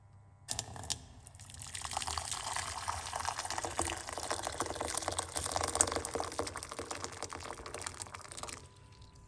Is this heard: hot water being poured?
yes